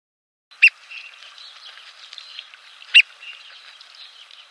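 A bird call lure in the Dinosaur Train children's game plays two sharp chirps about two seconds apart over a soft, fluttering high chatter, fairly quiet and alone.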